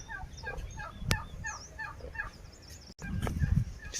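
Turkeys gobble on a rural home farm in a quick series of short, bubbling calls, fairly close, over a low background rumble.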